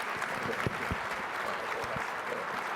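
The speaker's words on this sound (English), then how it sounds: "let's all give them a round of applause" Audience applause for Senators Tim Scott and Cory Booker after a conversation on opportunity zones, a steady roomful of clapping with a few close, sharper claps standing out.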